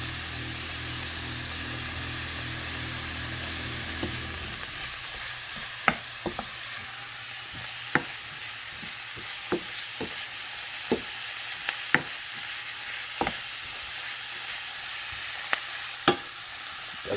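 Cabbage and onions with a little garlic fry in a pan, a continuous close sizzle broken by sharp, regularly spaced clicks and scrapes of stirring, with no talking.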